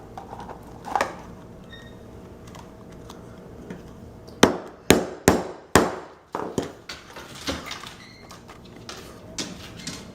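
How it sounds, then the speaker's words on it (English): A hammer drives a rivet through leather for a cosplay piece: a quick run of about six sharp, loud strikes in the middle, with a few softer taps before and after. "I'm going to hammer extra hard so it's going to work"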